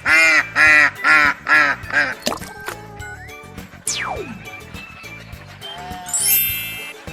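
Ducks quack in a farm-animal setting, a run of about six loud nasal quacks in quick succession, followed by whistling slide and jingling effects.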